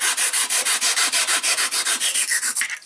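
A hacksaw blade fitted with small handles saws through foam in fast, regular back-and-forth strokes, about twenty rasping pulses in quick succession, close up with no talking.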